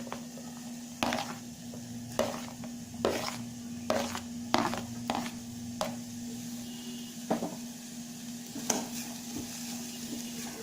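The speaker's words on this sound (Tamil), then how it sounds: "ஒரு 2 நிமிஷம் பச்சை வாசனை போக வதக்கணும்" Cabbage and mixed vegetables being sautéed in a pan for a vegetable soup, with a steady low sizzle and intermittent sharp scrapes and knocks of a spoon stirring against the pan, close and moderately quiet.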